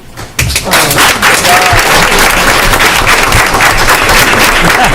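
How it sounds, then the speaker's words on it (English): A roomful of people clapping at a school committee meeting in Woburn: a loud, sustained round of applause that starts abruptly and continues evenly. "a round of applause"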